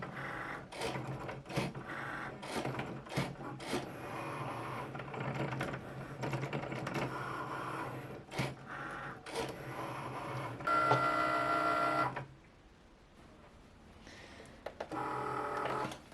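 A Cricut cutting machine cuts out labels with busy mechanical whirring and rapid clicking carriage movements, close and steady, then goes briefly quiet before a few final clicks.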